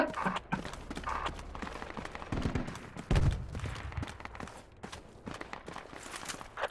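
AR rifle fire in Project Reality cracks in irregular clusters of sharp shots, some close and heavy, others quicker and lighter, over a busy rumbling background.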